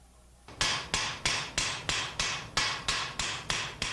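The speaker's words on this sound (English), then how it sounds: "Since the blade has now been hardened, it must be hammered carefully to avoid breaking it." A hardened steel saw blade struck by a hammer to flatten warping, about a dozen sharp metallic blows at a steady, even rhythm, loud and close with no voices.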